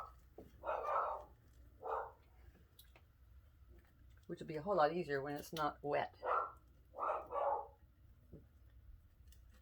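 A dog barks excitedly indoors at someone walking by outside, a few short bursts of barking spread through the moment, fairly faint and distant, with a person speaking briefly in between.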